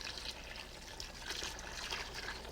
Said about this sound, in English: Now we're going to add 2 cups of clam juice.